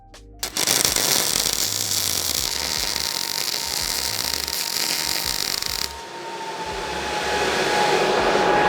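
A MIG welder with anti-spatter spray on its nozzle gives a harsh, even crackling hiss that runs for about five seconds. It then cuts off abruptly, leaving a quieter background hum.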